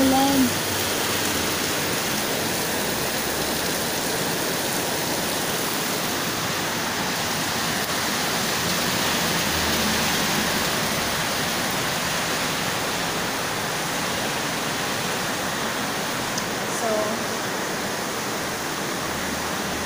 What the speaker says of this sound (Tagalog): Grabe sobrang ulan.